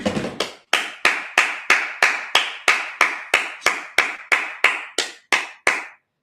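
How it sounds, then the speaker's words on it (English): A congregation at a Sabbath service claps in unison, about fifteen sharp, evenly spaced claps in a steady rhythm, loud and close, ending abruptly with no talking. "Let's clap it up."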